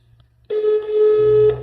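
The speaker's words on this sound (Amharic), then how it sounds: "ስልክ እኮ እየደወልን ናገባ" Telephone ring tone on an unanswered call, a steady electronic tone starting half a second in and holding to the end, fairly loud, with no talk.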